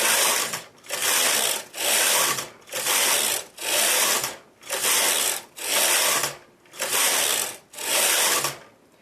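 A knitting machine carriage sweeps back and forth nine times, knitting rows of fern lace, each pass a loud, steady mechanical whirring rattle with short pauses between strokes, close and alone.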